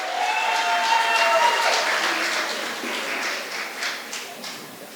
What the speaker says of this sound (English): Give them all a round of applause once more